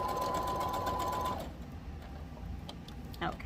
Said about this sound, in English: Now we're going to back stitch.